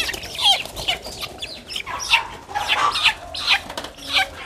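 Young chicks on a farm cluck and cheep in short, bright bursts, several birds calling close by with a little wing flapping and no one talking.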